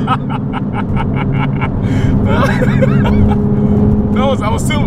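Nissan 370Z engine revving hard under acceleration with rev-matched downshifts, a loud, continuous rising drone close inside the cabin, with voices talking over it.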